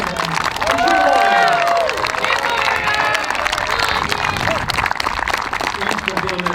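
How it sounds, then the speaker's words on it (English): A crowd at a youth baseball league opening day ceremony cheers, shouts and claps, a loud continuous roar with children's high-pitched yells rising over it, outdoors and close. "So really a big round of applause."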